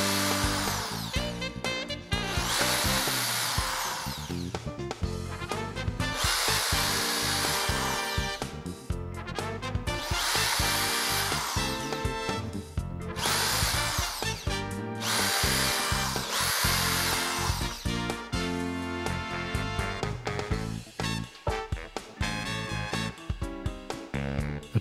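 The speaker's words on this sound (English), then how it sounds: "Drill the pilot holes through the bench top." Power drill boring pilot holes through a wooden bench top, a loud sustained whine that runs in several bursts with brief pauses, close up and without talk.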